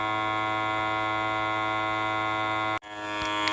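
A small food vacuum sealer motor hums with a steady electric drone, then cuts out briefly and starts again with a rising whir.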